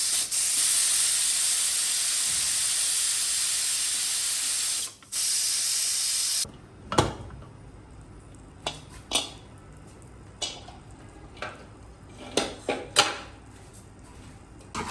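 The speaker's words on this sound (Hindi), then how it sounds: "इसका हम पहले प्रेशर रिलीज करेंगे।" A loud, continuous hiss of steam blasting from a pressure cooker of beef nihari, then it cuts off, followed by scattered clinks and clatter of kitchen utensils.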